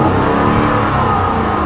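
Ford F-150 XLT pickup truck engine revving steadily and loudly up close, a continuous mid-range roar with no voices over it.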